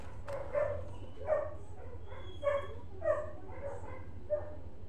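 A dog barks several times at a regular pace, the barks fairly faint and somewhat distant over a low steady rumble, with no one speaking.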